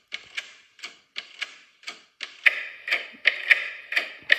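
A printer runs in a quick series of sharp mechanical clicks and ticks, rhythmic bursts about every half second that grow louder partway through; close and alone, no speech.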